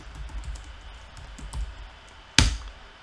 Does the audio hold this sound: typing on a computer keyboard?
yes